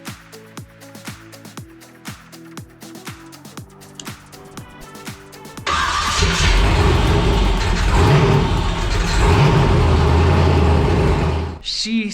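A Jeep Wrangler race build's engine starts with rhythmic cranking clicks, then catches and runs loud and steady near the microphone for several seconds before cutting off abruptly.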